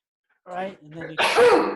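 Someone in a stage-anchoring class audience sneezes once, loud and close. It comes as a sharp burst right after a man's speech, and he is still talking as it fades.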